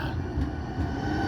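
A Portland MAX light rail train rumbles steadily, a dense low roar of wheels and car noise filling the whole span without a break.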